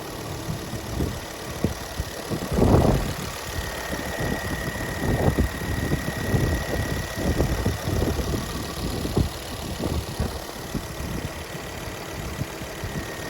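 Ford Focus ST 225 engine idling with the bonnet open, a steady close-up mechanical rumble with light ticking and a faint high whine throughout, no voices.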